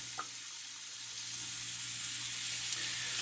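Shrimp frying in oil in a pot for a simple shrimp fra diavolo, a steady soft sizzle under a low hum that grows slightly louder, with one brief clink near the start.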